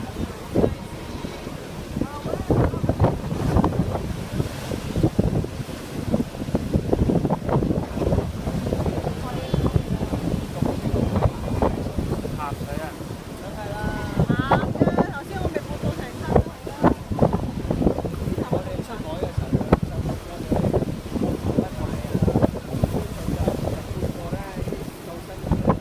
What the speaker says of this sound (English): very fortunate today that the wind is blowing so nicely from the southeast